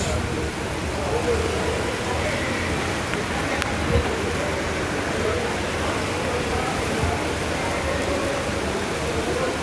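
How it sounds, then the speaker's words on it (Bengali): Heavy rain falls across Sylhet city, a steady, dense hiss that holds evenly for nearly ten seconds with faint distant traffic beneath it. "এই যে দেখুন বৃষ্টি হচ্ছে"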